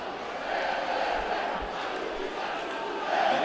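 A football stadium crowd roars steadily at a 2024 Campeonato Alagoano match between CRB and ASA, a dense wall of cheering that swells louder toward the end.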